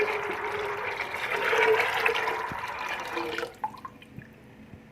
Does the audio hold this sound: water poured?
yes